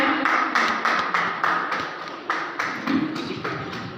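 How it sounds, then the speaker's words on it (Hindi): A crowd claps strongly in a rhythmic, unison beat, with sharp regular bursts repeating about every half second, close and fairly loud with little talk. "जोरदार ताली।"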